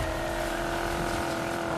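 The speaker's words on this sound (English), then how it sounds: "sound of that car, dude" A car engine in the racing game Need for Speed Payback holds a steady, even droning hum throughout, loud and alone without any voices.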